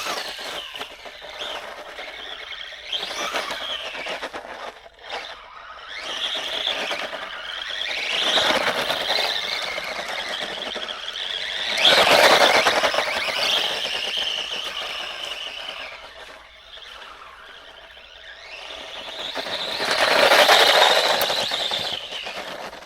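A brushless-converted SG116 RC car from Temu drives across a gravel area, its electric motor whining and squealing as it surges up and down in repeated bursts amid crunchy grit noise.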